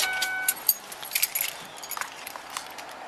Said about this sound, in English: Turn off the car and pass me the keys, please.